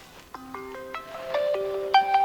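A mobile phone plays a melodic ringtone, a rising series of bright electronic tones growing louder over about two seconds, with no voices over it.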